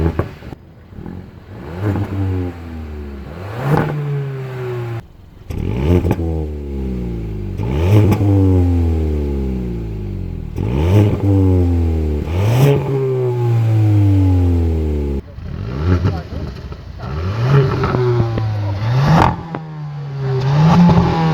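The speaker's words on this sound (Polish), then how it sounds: "Ostatnia zaleta, która mnie mocno zdziwiła, to dźwięk, jaki wydobywa się z rury wydechowej." Exhaust of a Kia Ceed 1.4 T-GDI turbocharged petrol car, revved repeatedly: several loud, rising engine bursts that climb and fall back to idle, heard up close with no talking.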